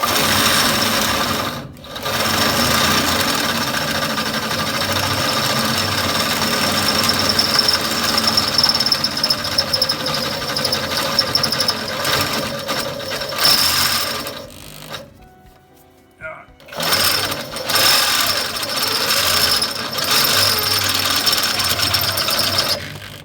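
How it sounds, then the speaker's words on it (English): A power drill bores mounting holes for a front sway bar on a 1957 Chevy, a loud continuous grinding whir under load that stops briefly a few times before resuming, heard close with no talking. "I'll drill the holes now."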